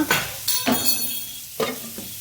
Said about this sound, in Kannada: ಇದು ಕುದೀತಾ ಉಂಟು